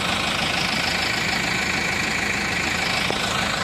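A John Deere 1018 mower tractor engine runs at a steady idle-like drone, close and loud, with an even mechanical hum and no talking.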